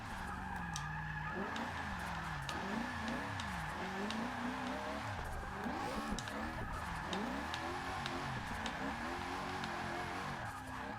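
A race car drifting in Forza Motorsport 6 under Formula Drift rules at Road Atlanta, taking a 100+ mph entry, with the engine revving up and down in wavering surges and steady tire squeal throughout, loud and continuous.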